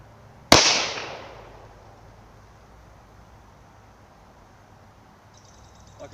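A single loud pistol shot from a 10mm or .38 Super handgun cracks sharply, its echo trailing off over about a second into quiet background.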